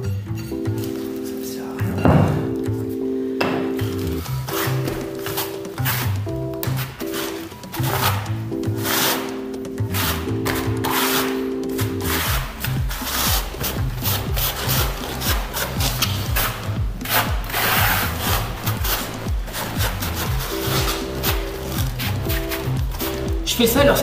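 Tile adhesive being spread with a 2 cm half-moon notched trowel for floor tiling in a hallway gives repeated scraping, rasping strokes close by, under a steady background hum with someone talking throughout.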